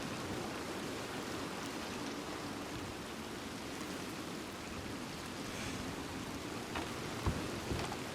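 Steady rain falls in the Red Dead Redemption 2 game world, a soft, even hiss of drops with faint low rumbles and a few brief knocks near the end.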